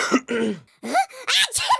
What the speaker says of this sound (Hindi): जब आप गले को साफ करते हैं तो इसे क्लियरिंग द थ्रोट कहते हैं